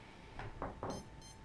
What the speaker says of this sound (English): You're going to hear a lot of beeping.